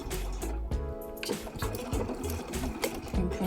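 A sewing machine topstitches a zippered makeup pouch with a lengthened 3.4 mm stitch, running steadily up close in a continuous mechanical whir with quick rhythmic needle clatter.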